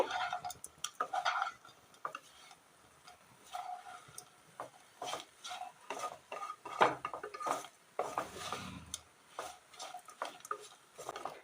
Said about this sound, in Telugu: బాగా కలిసే విధంగా కలుపుతూ ఫ్రై చేసుకోండి.